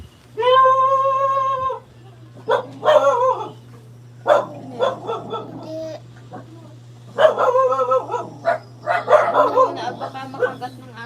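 A tethered dog at a home gate barks and yips in short bursts spread across the stretch, fairly close, with a steady low hum beneath and brief human sounds between barks.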